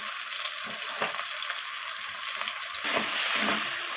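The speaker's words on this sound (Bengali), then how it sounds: "তো মশলাটাকে আমি নাড়াচাড়া করে নেব" Spice powders (chilli and cumin) sizzle in hot oil for a Bengali chicken curry while a spoon stirs them, a steady close hiss with scraping strokes that turns louder and brighter near the end; no talk.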